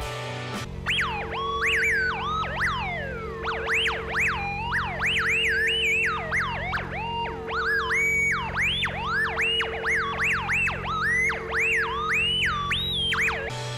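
Strange, otherworldly warbling tones from the Space Docker parked behind a UFO in GTA V, rapid rising and falling synthetic chirps repeating continuously over a steady low drone, loud and unbroken throughout.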